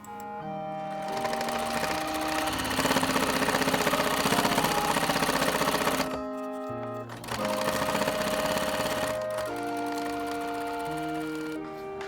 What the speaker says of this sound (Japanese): 端を三つ折りで縫おう。